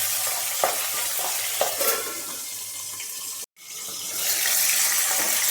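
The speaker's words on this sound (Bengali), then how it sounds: "ইলিশ মাছের মাথাগুলো আমি একটু তেলের মধ্যে আগে ভেজে নেব।" Hilsa fish heads fry in hot oil with a loud, close, continuous sizzle and a few stirring knocks; after a brief cut the sizzle returns stronger and steadier.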